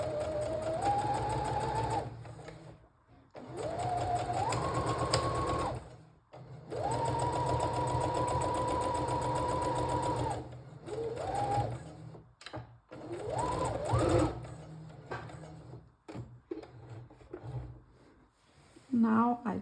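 A sewing machine stitches down the middle of a knitted steek in several runs of steady, close whirring a few seconds long, stopping and starting between them while a person talks quietly.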